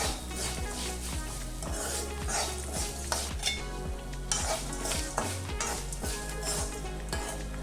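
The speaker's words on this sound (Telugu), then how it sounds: "ఇందులోకి ఆవాలు, అలాగే జీలకర్ర వేసుకొని మరి కొద్దిసేపు వేపుకోవాలి." Mustard seeds and cumin fry in a pan for a bitter gourd spice powder, a soft steady sizzle broken by regular scraping and clinking as a spatula stirs against the metal, close and fairly quiet.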